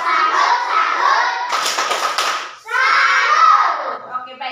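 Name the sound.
children doing a 'tepuk salut' clapping chant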